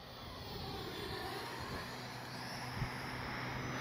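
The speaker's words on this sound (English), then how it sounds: "For such a little plane, flies really well." Arrows 50mm Viper, a small RC electric ducted-fan model jet, flying with a steady distant whine and airy rush that holds at a constant level throughout.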